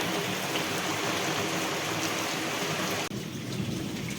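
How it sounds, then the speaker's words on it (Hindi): Steady heavy rain pours throughout, with a low rumble of thunder blending into the downpour; no voices. "देखा तो बादल गड़गड़ा रहे थे।"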